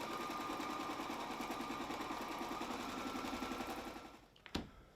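A sewing machine stitches a pocket onto the back of a chair in a fast, even mechanical patter that runs for several seconds, then stops with a sharp click.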